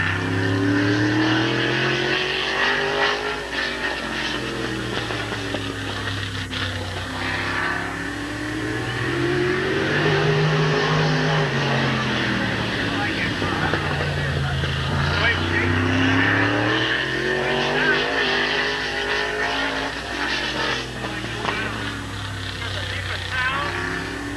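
Stock cars race at Midvale Speedway in 1988, including the number 24 car from Cleveland, Ohio. Loud engines rise and fall in repeated sweeping passes as they lap the track, with voices mixed in.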